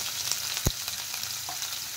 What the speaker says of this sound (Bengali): পেঁয়াজ হালকা ভেজে নেব এখন